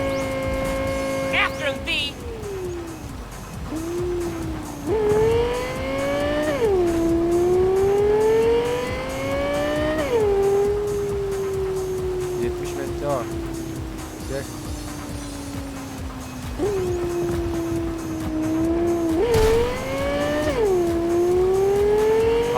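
Racing cars in Cyberpunk 2077 roar through repeated rising revs and gear shifts, engine pitch sweeping up and dropping, with a brief tire squeal near the start, loud and continuous throughout.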